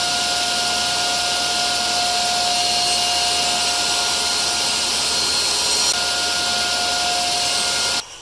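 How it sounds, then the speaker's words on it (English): A power saw cuts a rabbet in six-inch wooden mold pieces with a loud, continuous high whine and rushing noise, holding steady for several seconds before the sound drops off abruptly at the end. "I'm going to cut a 1/8 inch deep or 1/8 inch wide, 1/2 inch tall rabbet in my 6 inch pieces"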